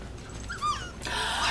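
Dogs whimpering and yipping in a film scene: a few thin, rising whines at moderate distance over a hissy background, then a burst of broadband noise; no talk.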